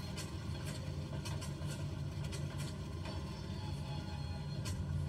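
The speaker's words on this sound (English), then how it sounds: "Now going for right engine start." Twin-engine aircraft engine starting on the ground before a flight from Maturin to Paramaribo, with a steady low droning rumble and faint intermittent clicks throughout, continuous and moderately loud, with no talk over it.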